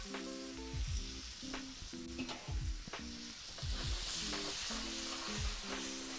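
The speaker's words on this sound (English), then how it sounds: "All right, butter is brown and ready for us. Onions going down." Onions going into browned butter in a pan, sizzling and frying steadily throughout, with occasional stirring clatter and music underneath.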